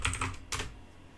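Keystrokes on a computer keyboard during software setup on a Windows PC: a quick cluster of clicky taps, then a second short burst, close and moderately loud, with no talking.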